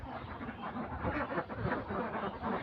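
A flock of mixed-colour ducks at a duck house, many birds quacking at once in a dense, continuous chorus, close and fairly loud throughout, with no talk.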